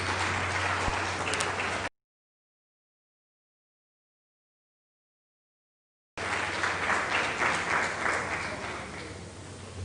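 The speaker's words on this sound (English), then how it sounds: "Please welcome her with a round of applause." An audience at a Ghanaian Ministry of Information event applauds an official being welcomed, steady clapping that cuts out into silence and then resumes before fading slightly.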